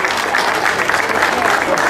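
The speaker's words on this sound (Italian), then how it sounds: "Una bella foto e un grande applauso" Steady, close crowd applause greets a podium finisher at a slalom motor race prize ceremony in Oppido Mamertina, a continuous patter of claps with voices mixed in.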